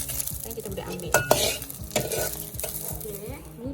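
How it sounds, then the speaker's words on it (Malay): Dried chillies fry in hot oil in a pan while making sambal kelapa, with a busy sizzle, stirring scrapes and a few sharp clinks of utensil on metal, close and without talking. "Kita goreng cili kering kita sehingga masak."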